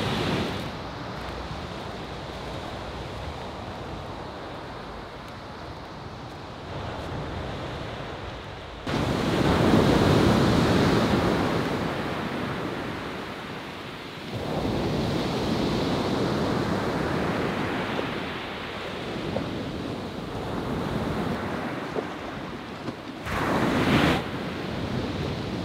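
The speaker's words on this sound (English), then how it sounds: "the waves are coming in" Sea waves wash in on Kaputaş beach on the Turkish Riviera in broad, rushing surges that swell and recede over about half a minute, close and fairly loud, with wind buffeting the microphone and no talking.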